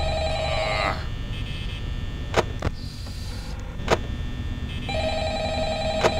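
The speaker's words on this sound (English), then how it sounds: "There goes the phone." Office telephone ringing in the horror video game Five Nights at Freddy's, a steady electronic ring tone that starts, pauses briefly, then resumes, with a couple of sharp clicks in between and no talk.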